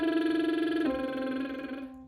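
A singer's lip trill gives a buzzing, pitched tone that starts at middle C and steps through a three-note figure spanning a third. One short phrase, close and steady, fading at the end.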